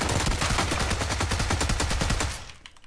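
Tommy gun fire in PUBG: a loud, rapid, sustained automatic burst of close gunshots lasting over two seconds before stopping abruptly.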